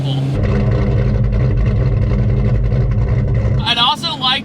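A 620 hp Mystic Cobra with a stroker V8 idles close and loud, its deep rumble pulsing in an uneven, choppy lope before cutting off near the end as a brief voice-like chirp takes over.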